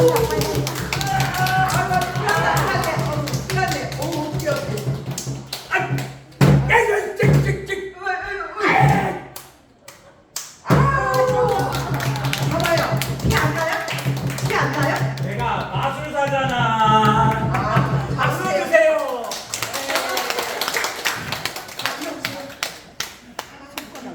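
Hands clap in rhythm at a birthday party performance for seniors at a day care center, with loud chatter and singing throughout and a brief pause in the middle before the clapping and voices return.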